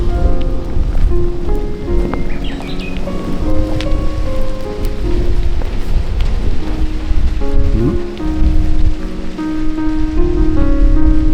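Steady, loud rain pours down in a dense continuous hiss that lasts throughout, with sustained musical tones running faintly underneath.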